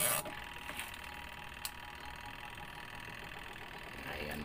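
A small engine switched on and running smoothly gives a faint, steady idle hum with light ticking, continuous after a brief louder start.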